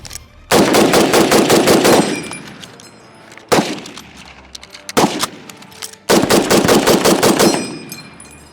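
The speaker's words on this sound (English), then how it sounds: "Austin will of course be firing my Type 2 Paratrooper rifle" Type 2 Arisaka paratrooper and M1 Garand rifles fire in rapid strings of sharp, loud shots, two long volleys separated by a couple of isolated reports, recorded close on an open range.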